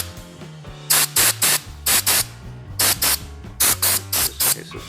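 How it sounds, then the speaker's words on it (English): Compressed air shoots into the action of a Browning shotgun in repeated short, loud bursts, about a dozen sharp blasts in uneven clusters over a soft background. "I'm going to use a little compressed air to try to get behind this"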